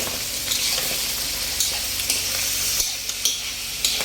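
Chicken liver sautéing in a hot pan for pancit, an even loud sizzle broken by regular scraping stirs, close up with no voices.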